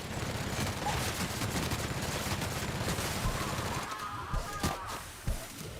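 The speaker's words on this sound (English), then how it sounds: "But you might as well keep shooting stuff" Rapid bursts of gunfire from guns in The Outer Worlds video game, a dense continuous volley of shots that thins into a few scattered, separate bangs near the end, with no talking over it.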